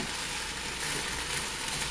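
Food sizzles steadily in a frying pan while being stirred, a continuous close, bright hiss with no speech.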